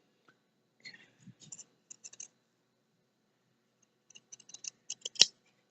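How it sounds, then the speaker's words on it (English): Pinking shears cutting a fabric triangle for a quilting block, two short bursts of crisp snipping clicks separated by a quiet pause, close and fairly faint. "I'm going to use my pinking shears right now"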